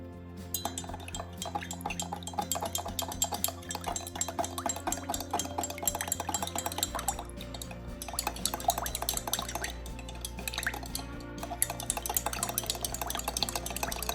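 A thick, syrupy mixture is stirred in a pot, giving a steady run of close, soft clinks and wet sloshing sounds that continue with no talk over them.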